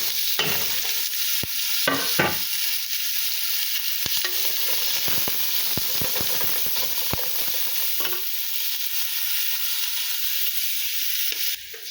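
Onion sizzles and fries loudly in a pan, with steady hiss punctuated by clinks and scrapes of stirring, alone without talk.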